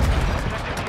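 Rapid gunfire in Call of Duty: Modern Warfare III, a dense, loud burst of shots fired blindly into the dark, with a voice heard amid the shooting.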